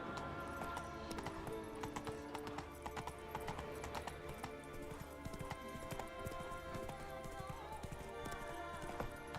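Horse hooves galloping in The Witcher 3, a rapid, steady clip-clop close by that runs throughout, with a brief whinny and a layer of game music underneath.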